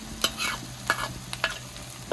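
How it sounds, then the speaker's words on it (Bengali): Dried red chili paste frying in a pan with sautéed onion and garlic, a steady close sizzle broken by a few sharp stirring scrapes, with no voices. "এবারে দিয়ে দেবো শুকনো লঙ্কা বাটা"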